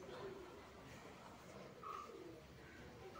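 Fantail pigeons cooing softly in a loft, low repeated coos over a steady background hiss, with no talk.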